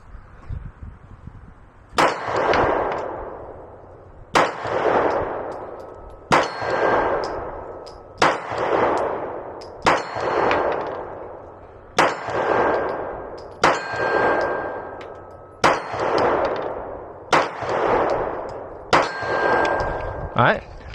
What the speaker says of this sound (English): we're going to shoot at this target right here at 50 feet